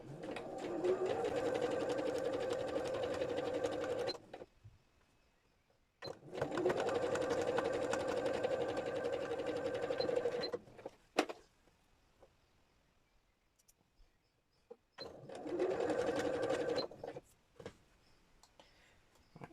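Sewing machine stitching a mini quilt, running in three steady bursts of a few seconds each with quiet pauses between, close and fairly loud.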